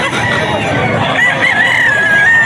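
A Cuban hennie tuffy rooster crows loudly and close at a pet market in Bocaue, one long drawn-out call rising over a busy, noisy background with no clear talk.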